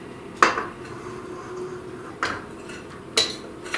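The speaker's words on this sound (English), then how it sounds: "I'm going to beat this until it's all thoroughly combined." Chocolate orange bundt cake batter being beaten in a bowl, heard as a few sharp clanks of utensil against the bowl at irregular intervals over a low steady background, with no talking.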